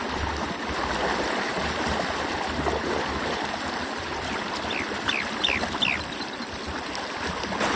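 A deep, strong current rushes through a swollen river, a steady broad wash of water close by with a few small splashes and gurgles near the end and no voices.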